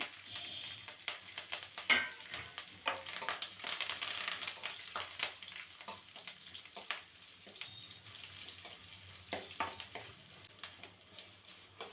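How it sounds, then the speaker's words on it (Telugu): Garlic and curry leaves crackle and sizzle in hot tempering oil for a mint and dried red chilli chutney, a steady close-up frying hiss dotted with dense, irregular pops and snaps throughout, with no talking. "తర్వాత వెల్లుల్లిపాయలు, కరివేపాకు 2 కలిపి వేసేసుకోండి. ఇవి బాగా చిటపటలాడేంత వరకు ఉంచేసేయండి."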